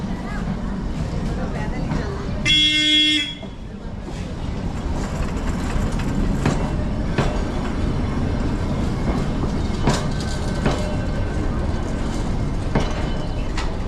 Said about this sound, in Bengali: আমাদের টয় ট্রেন প্রায় চলে এসছে।